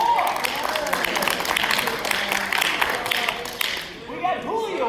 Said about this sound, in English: So we'll give him a round of applause when we come back.